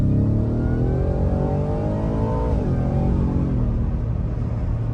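A Ford Raptor R pickup truck in sport mode accelerates in a quick pull, its engine revving loud and steady with a deep rumble throughout, close by and with no talk.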